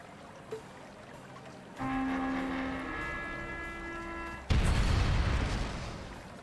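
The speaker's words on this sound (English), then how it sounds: "Was that a bomb? Portable high-powered explosive." A loud bomb blast from the video game Trails of Cold Steel bursts in suddenly after a stretch of soft tonal chimes, then rumbles and slowly fades.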